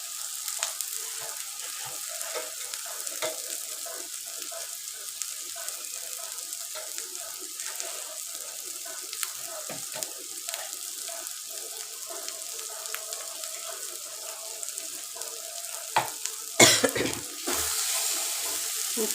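Ground cumin and other spices fry in a pan for a rohu fish head curry, giving a soft continuous sizzle with scattered stirring taps and a louder scrape near the end, with no talk.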